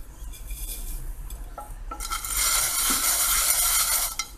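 Scraping and scrubbing against a metal frying pan with grated white bar soap, quiet at first and then louder and wetter, with light clinks of cookware.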